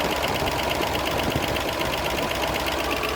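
A 1972 Range Rover engine idles steadily at about 800 rpm during carburettor adjustment, giving a continuous, even mechanical hum with a faint ticking texture and no talk.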